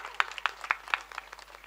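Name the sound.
audience applause at a kirtan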